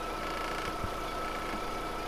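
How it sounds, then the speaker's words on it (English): A 2005 VW Lupo GTi engine idles with the hood open, a steady, slightly shaky hum running continuously and fairly close, with a few faint knocks and no talking. "the engine's a little bit shakier than it typically would be"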